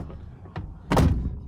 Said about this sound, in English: Here, I'll close the door.